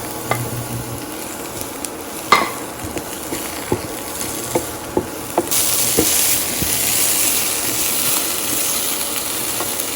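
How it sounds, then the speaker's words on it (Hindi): Freshly chopped garlic sizzles with softened onions in a frying pan, a steady close hiss broken by light stirring clicks and scrapes, with the sizzle swelling louder partway through. "अब इसमें जा रहा है लहसुन चॉप किया हुआ फ्रेश।"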